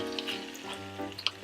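Beef and broccoli stir fry sizzles steadily in a hot pan, with a few soft scraping clinks as it is stirred, close and alone.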